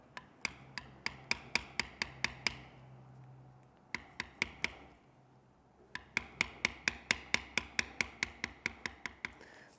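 A mallet strikes a bevel tool on leather in quick, evenly spaced sharp taps, close and crisp, coming in runs of about eight to fifteen blows separated by brief pauses.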